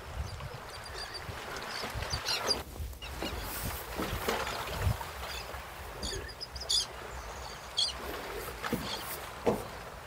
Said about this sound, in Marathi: तुम्ही पक्ष्यांचा आवाज ऐका.